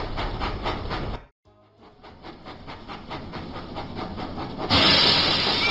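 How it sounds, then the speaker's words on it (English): A steam locomotive in a Thomas & Friends video game gives rhythmic chuffing puffs, breaks off briefly, then resumes puffing and ends in a loud steady hiss of steam. "Percy puffed proudly into the steamworks."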